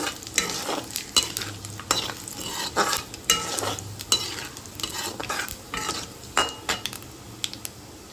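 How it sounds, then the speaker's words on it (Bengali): Dried red chillies and panch phoron fried in oil and stirred steadily, with repeated close metal scrapes and clinks of a spoon against the pan over a continuous sizzle. "শুকনো লঙ্কা ফোড়ন আর কিছুটা পাঁচ ফোড়ন দিয়ে দিলাম দিয়ে ভালোভাবে নাড়িয়ে নিচ্ছি"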